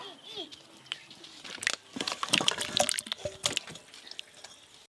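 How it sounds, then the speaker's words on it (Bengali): Potatoes are washed by hand in water for a chicken biryani, with close splashing, sloshing and dripping. The sounds rise and fall in bursts, and a faint voice is heard briefly at the start. "এই যে আলু ধুয়ে দাও"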